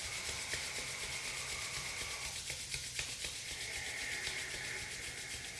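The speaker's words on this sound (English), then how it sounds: "bringing your hands together, rubbing them together to generate some friction" Palms rubbing briskly together to build friction and warmth during a guided lockdown meditation, a steady dry swishing that runs throughout at close range with no talking.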